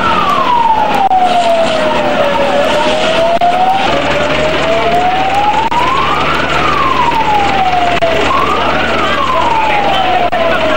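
Fire engine siren wailing in rising and falling sweeps, loud and close, with traffic and engine rumble underneath, at a fire in Mojokerto.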